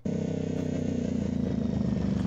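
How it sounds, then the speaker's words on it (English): A motorcycle engine pulling a chariot runs steadily and loudly close by, a continuous throaty drone with a slight pulse. "a regular chariot, except the horse is replaced with a motorcycle"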